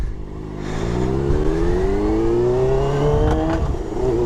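A motorcycle engine runs close by and revs up steadily, its pitch rising and then settling, with no talking.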